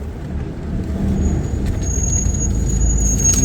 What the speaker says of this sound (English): My brakes squeal